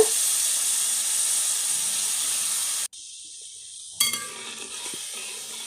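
Beef stock is poured into a hot pan of beef fry: a loud, steady sizzling hiss fills the pan, cuts out abruptly for about a second, then surges back with a sharp burst.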